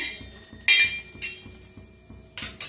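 Green chillies, a hot variety and a mild one, being pounded for Maharashtrian thecha: steady dull thuds repeat about four times a second, close by, with a few sharp clinks mixed in.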